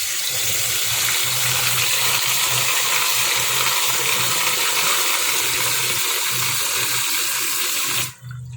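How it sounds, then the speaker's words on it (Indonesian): Peanuts washed under a steady stream of running tap water, a continuous close splashing rush into a sink that stops abruptly near the end. "cuci terlebih dahulu kacang tanahnya agar lebih bersih."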